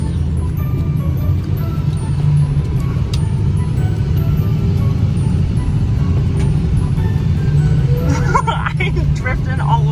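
A Ford 6.0 Powerstroke diesel truck drones steadily with a deep engine rumble while slipping through mud, close and loud, with a brief rattle near the end.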